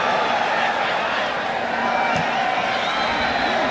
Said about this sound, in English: Crowd urging Real Madrid to attack here at the LA Coliseum.